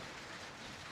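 Rain arriving outdoors makes a dense, steady hiss across the whole short stretch, faint and even, with no voices.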